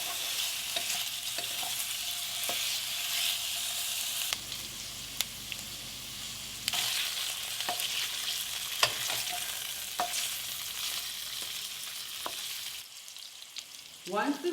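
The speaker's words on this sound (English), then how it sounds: "Heat your pot over low flame, then add the pork pieces and turn occasionally until light brown all over." Pork pieces brown in a pot over a low flame, giving a steady close sizzle and crackle with occasional stirring scrapes, continuous and fairly loud throughout.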